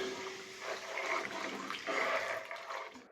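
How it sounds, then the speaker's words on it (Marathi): Hot water pours into a kadhai of simmering katachi curry for vada, a soft continuous splashing and gurgling stream lasting a few seconds, fairly quiet and close. "आता आपण टाकतोय ते गरम पाणी जे केलं होतं आपण ते कढईमध्ये गरम पाणी टाकतोय"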